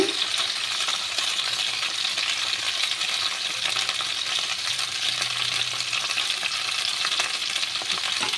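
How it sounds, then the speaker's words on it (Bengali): Steady, close sizzling of cauliflower frying in hot oil, a continuous crackling hiss throughout with occasional faint clinks. "ফুলকপিটাকে একটু লাল করে ভাজা করতে হবে"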